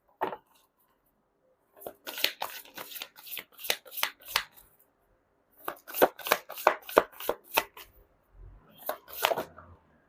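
Tarot cards being shuffled by hand in quick riffling bursts, three distinct runs of rapid crisp flicks separated by short pauses, close and fairly quiet with no talking.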